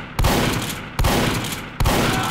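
Gunfire in Team Fortress 2, three loud sharp shots spaced roughly 0.8 seconds apart, each with a dense ringing tail, up close and with no talk over them.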